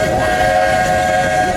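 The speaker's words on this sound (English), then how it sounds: "This old steam train needs water to keep going" Walt Disney World Railroad steam train stopped for water on an outdoor ride, giving a steady sustained whistle-like tone over a broad hiss of steam and ambient noise, brief and fairly loud.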